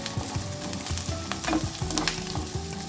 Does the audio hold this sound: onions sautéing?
yes